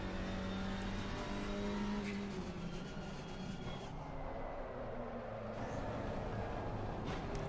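A race car drifts through a corner in Grid Legends, its engine droning and shifting pitch at a moderate distance alongside a steady road rumble, with no speech.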